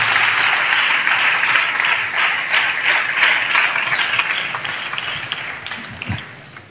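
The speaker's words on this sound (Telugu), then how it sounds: "యేసయ్యకి చప్పట్లు కొడుతూ స్తోత్రాలు చెప్దాం." A church congregation claps together in sustained, dense applause during a worship service, loud and steady for several seconds before easing slightly toward the end.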